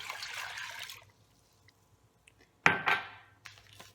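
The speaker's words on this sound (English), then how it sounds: "Now I'm going to add in 2 cups of water." Two cups of water poured into an Instant Pot holding a rump roast: a broad hiss at the start, then a quiet stretch, then a short sharp splash and gurgle with a brief trickle after.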